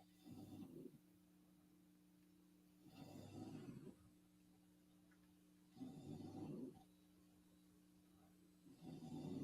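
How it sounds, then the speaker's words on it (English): An English bulldog snores in slow, heavy rhythm, each rasping breath about three seconds apart with low steady tones in between, faint and in the background. "That's my dog snoring in the background."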